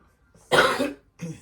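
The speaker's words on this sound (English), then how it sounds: "I don't know why I'm coughing this morning." A single close, harsh cough burst followed by a shorter second cough after a brief pause.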